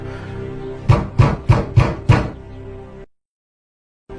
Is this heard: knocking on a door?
yes